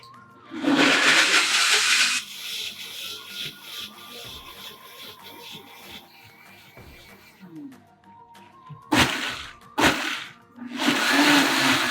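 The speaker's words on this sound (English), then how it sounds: "I'm going to go for the smoothie function and leave it to blend on its own" A blender on its smoothie function blends kare-kare sauce: loud whirring bursts that start, pause while a person talks, then roar again in short pulses and a long final run.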